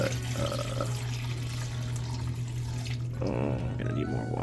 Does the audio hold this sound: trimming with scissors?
no